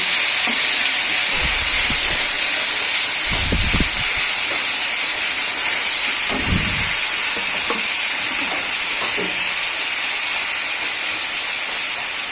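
Onion and garlic paste with grated tomato frying in a pan after black cumin tempering, giving a steady loud sizzle throughout with occasional brief stirring scrapes, and no talking.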